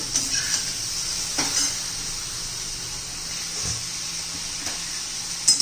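Okra (bhindi) cooks uncovered in an open pan, giving a bright, steady sizzle with a few clinks and scrapes of stirring, close by and free of talk.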